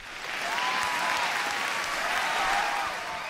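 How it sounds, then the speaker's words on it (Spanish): Warm applause from a group of people, a continuous wash of clapping that swells in quickly and holds steady for a few seconds before easing off slightly at the end. "Un aplauso para todos"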